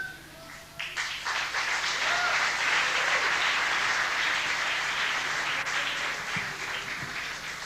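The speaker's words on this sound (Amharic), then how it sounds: "ተመልካቹ ድጋፉን እየሰጠ ነው።" A studio audience at a comedy show breaks into sustained applause that swells quickly and holds steady, a dense, loud wash of clapping with a faint voice beneath it.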